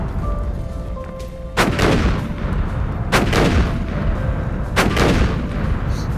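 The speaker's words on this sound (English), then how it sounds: "Of all sounds, why is it a cannon sound?" Cannon blasts from a video game, three loud booming shots about a second and a half apart, each with a rolling decay over a steady background of game noise.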